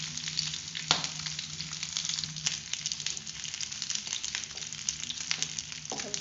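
Mutton roasts with mixed herbs in a pan, giving a dense, continuous sizzle and crackle with occasional sharper pops and a scrape near the end, close and loud with no talking.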